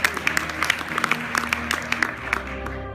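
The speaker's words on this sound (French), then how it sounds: "On peut les applaudir." Audience applause for a film jury at a short-film festival screening, a dense patter of claps filling the room at moderate level, with some tonal background underneath.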